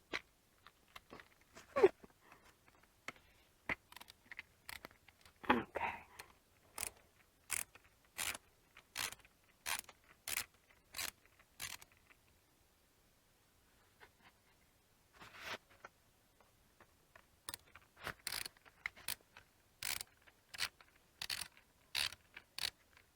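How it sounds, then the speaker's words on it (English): Screws being backed out of a canopy clip on a Zoom360 Ultralight jogger stroller, a quiet close-up run of rapid ratcheting clicks in two bursts separated by a short pause. "So there's two screws right here and here. So we're going to take those off real quick."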